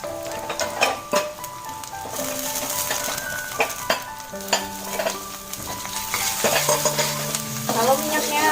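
Sliced onions sautéing in a pan of oil for Surinamese-style chicken, a steady close sizzle with a spoon repeatedly scraping and stirring, scattered metallic clinks and a faint tonal hum running underneath.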